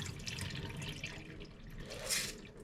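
Jasmine rice being rinsed in water for the last time until the water runs clear, with steady close splashing and trickling, a brief louder swish near the end.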